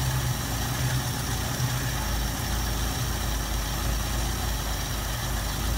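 A 1973 Ford Mustang convertible's 302 two-barrel V8 settles into a steady low curb idle, a continuous even rumble at moderate level with no talking.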